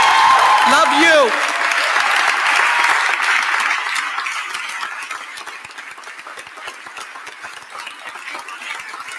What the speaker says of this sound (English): I want you to give a super round of applause to Crystal Jacob Shipman, our sanitation